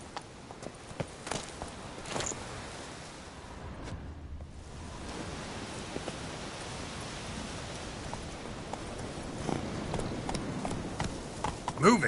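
Horse hooves clip-clopping at a walking pace in The Witcher 3 video game, soft and fairly distant over a hissing ambient bed.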